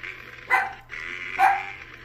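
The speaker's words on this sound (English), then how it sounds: "wiener dog seems to think I'm in trouble here. She's barking away." A pet dachshund barks twice in sharp, fairly close bursts about a second apart, set over a steady background of game and phone audio.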